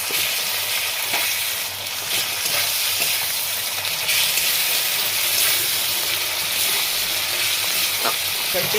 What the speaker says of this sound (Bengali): এবার আদা রসুনের বাটা দিচ্ছিলাম